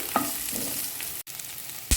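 Onions and ginger garlic paste sizzle steadily in a hot pan, with a brief stirring scrape near the start and another at the end.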